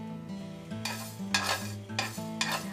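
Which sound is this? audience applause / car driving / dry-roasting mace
dry-roasting mace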